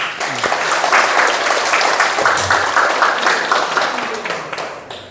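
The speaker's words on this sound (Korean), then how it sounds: "박수 한번 쳐줍시다." An audience at a Korean Seon meditation talk bursts into sustained, dense applause, loud and close, tapering slightly toward the end, with a voice faintly heard beneath.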